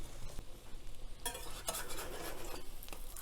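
Cornbread fritter frying in a pan gives a faint, steady sizzle close by, with a brief clatter of utensil against the pan and a louder crackling patch midway.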